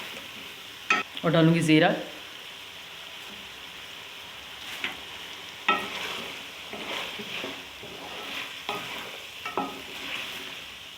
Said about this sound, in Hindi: देखिए बस अच्छी तरह वेजिटेबल और साथ में चिकन भुन रहा है